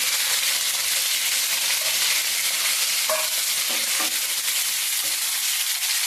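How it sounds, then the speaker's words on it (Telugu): Green chillies and tomatoes fry in a pan for a raw tomato chutney, giving a loud, constant hissing sizzle close up, with a few soft clicks of stirring now and then. "పచ్చిమిరపకాయలు పెట్టి టమాటాలు వేస్తాను"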